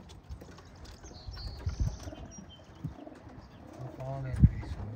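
Racing pigeons give soft, low coos close by in a loft, mixed with rustling, fluttering and background voices, ending in a louder thump near the end.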